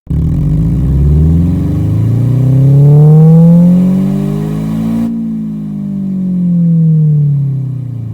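A synthesized gasoline car engine revs up and down in smooth, rising and falling sweeps, loud and buzzy, turning muffled and darker partway through as simulated exhaust muffler low-pass filtering takes effect.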